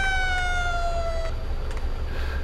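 A police siren on a vehicle in Farming Simulator 22 wails loudly, its tone sliding steadily downward over a constant low engine rumble, with no talking.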